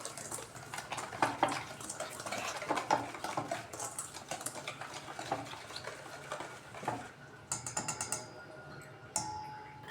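Powdered sugar being stirred into a Dairy Milk chocolate cake batter in a bowl, a steady wet scraping and clinking of the spoon against the bowl that goes on throughout the clip and then turns to a few sharper knocks near the end.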